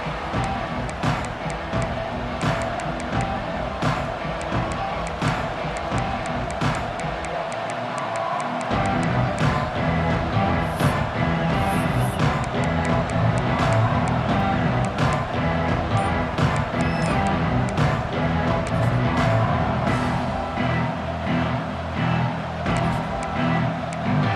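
A college football stadium crowd roars and cheers during a Texas A&M versus Mizzou game, a dense, sustained wall of noise that swells louder partway through.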